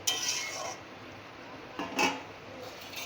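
A spoon clinks and scrapes against a metal pot while gourd kofta balls are stirred into curry gravy, with a few brief metallic knocks over a quiet background.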